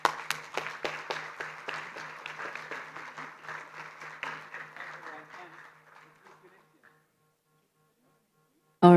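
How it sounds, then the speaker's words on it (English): A summit audience claps for several seconds, individual sharp claps over a steady room hum, thinning out and dying away into near silence before a sudden loud burst at the very end. "give a round of applause to the amazing team"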